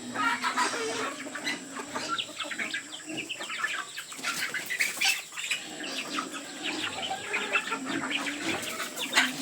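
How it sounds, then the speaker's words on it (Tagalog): Backyard chickens and small chicks clucking and peeping busily at feeding time, with wing flaps and scratching, close and steady. "Ayan, mga sisiw."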